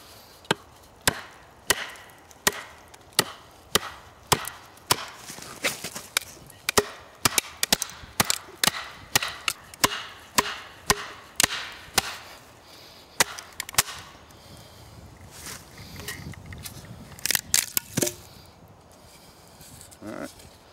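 A pine hearthboard is split by hand with an axe outdoors, a long series of sharp, close chopping impacts in a fairly steady rhythm, followed by a looser stretch of rustling and scattered knocks near the end.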